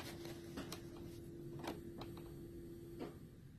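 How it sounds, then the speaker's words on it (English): A sewing machine stitches through the hem of a pair of jeans: a few short, quiet mechanical ticks and clicks over a steady faint motor hum, with no talking. "put the jeans underneath the sewing machine foot, like so, and I am going to do a couple stitches"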